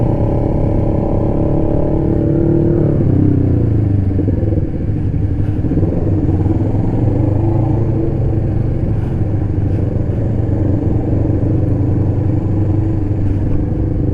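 Superbike motorcycles idle and rev loudly at a car meet in Texas, a dense continuous engine rumble with rising and falling throttle, close and sustained with no talking.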